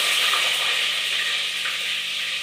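Onions hit hot oil already crackling with mustard seeds and garlic, giving a steady, close, loud sizzle and hiss that holds evenly throughout with no voices.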